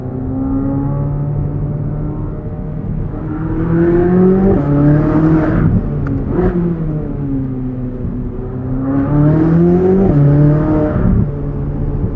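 A 2023 Chevrolet Corvette Z06 engine revs up and down repeatedly, its exhaust roaring and droning loudly with rising and falling pitch, no talking.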